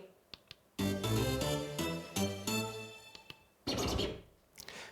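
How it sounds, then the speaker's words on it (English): A JBL PartyBox 720 or 520 speaker fires its sample pad sound effects: loud, punchy tonal bursts, one long effect followed by a shorter one, set among a few sharp clicks. "We have 3 sound effects buttons, so these sound like this"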